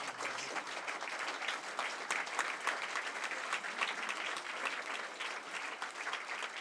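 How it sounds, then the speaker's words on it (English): Audience at a congressional candidate forum breaking into sustained applause, dense, even clapping from a crowd that holds steady throughout at a moderate distance. "You've been holding your applause."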